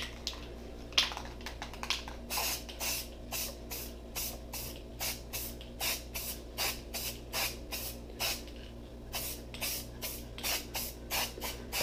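Repeated short bursts of a spray gun applying high gloss lacquer top coat over dyed wood, each hissing pass about half a second long, evenly spaced and close, with a faint steady hum underneath.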